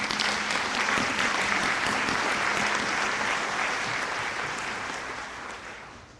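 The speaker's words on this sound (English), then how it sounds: "Would you join me in thanking them with a round of applause?" A large audience at a college graduation ceremony claps in a dense, sustained round of applause that gradually fades toward the end.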